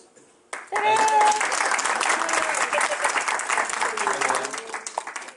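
An audience bursts into loud applause at a stage mind-reading show, a sudden dense wall of clapping and cheering that holds steady for several seconds before starting to fade, with voices mixed in.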